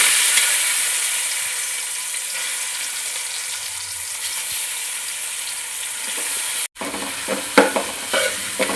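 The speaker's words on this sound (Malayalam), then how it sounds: "ഈ നെയ്ക്കകത്ത് കിടന്ന് നമുക്കിത് നല്ലോണം ഇളക്കി കൊടുക്കുക. കുറച്ച് നേരം നെയ്ക്കകത്ത് ഒന്ന് വഴന്ന് വരണം." Ripe jackfruit stirred and sautéed in ghee in a heavy uruli gives a steady close sizzle with scraping stir strokes, a brief break, then louder irregular clatter of the spoon.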